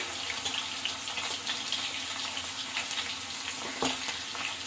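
Moong dal fritters fry steadily in hot oil, a dense, continuous sizzle with crackling bursts throughout and a sharper pop near the end, close by with no talking.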